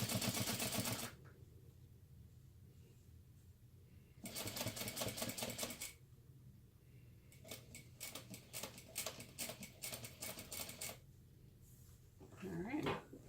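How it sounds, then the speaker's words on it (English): A sewing machine top stitches a crossbody bag panel in bursts of fast, rhythmic mechanical clatter, separated by quiet pauses, heard close and loud. "now I'm going to top stitch through the top panel and through that seam allowance that's behind there at a 1/8 inch seam allowance"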